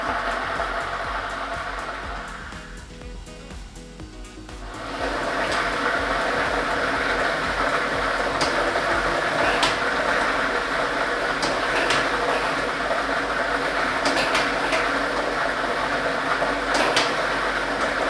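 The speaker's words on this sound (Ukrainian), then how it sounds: "І ми вмикаємо лототрон." A lottery ball drawing machine runs at a Ukrainian state lottery Loto Maxima draw, giving a loud, steady blowing roar with faint clicks of balls tumbling inside, no voices.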